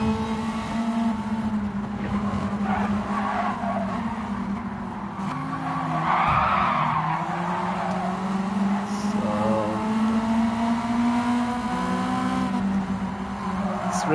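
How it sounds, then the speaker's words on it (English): Autobianchi A112 Abarth racing in Gran Turismo 7, a steady droning small-engine note through a sprint race, with tyre squeal and skidding rising midway as the car slides, engine pitch dipping and recovering. "it's a sprint race in the Auto Bianchi A112 of Barth"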